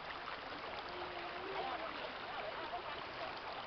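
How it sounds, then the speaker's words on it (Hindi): A river flowing at Malaj Kund, giving a steady soft rush of moving water that stays even and fairly faint throughout. "कितनी सुंदर नदी है ना बेटा"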